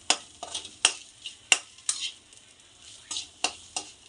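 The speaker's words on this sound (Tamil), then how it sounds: "இதை போட்டு நல்லா வதக்கிக்கலாம்." Ingredients for chicken fried rice sauté in hot oil in a pan, a soft sizzle broken by repeated sharp clinks and scrapes of a spatula stirring, with no talking.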